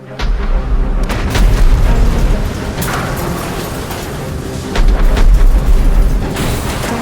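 Heavy rumbling booms and blasts of naval artillery fire and explosions roll continuously, loud and dense, with sharper bursts cutting through like distant gunfire.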